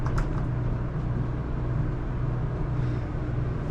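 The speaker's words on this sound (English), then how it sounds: "It's a very slow elevator too." An old, slow elevator in a mall department store rises with a steady low mechanical hum and rumble, unbroken and moderately loud the whole time, with no voices over it.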